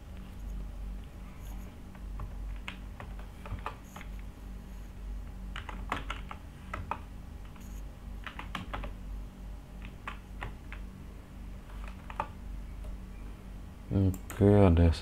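Typing on a computer keyboard during an Android SQLite coding tutorial, quiet irregular bursts of key clicks spread across the stretch, with a louder clatter near the end.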